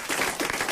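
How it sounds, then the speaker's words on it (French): Studio audience applause on a French radio comedy show, a dense, steady burst of many hands clapping close by with no voices over it. "On les applaudit tous les deux."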